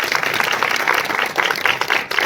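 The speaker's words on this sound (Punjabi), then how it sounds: "ਅਸੀਂ ਤਾਲੀਆਂ ਦੇ ਨਾਲ ਸਵਾਗਤ ਕਰਾਂਗੇ" A church congregation applauding to welcome visiting pastors, a dense burst of many hands clapping together, loud and continuous for a couple of seconds.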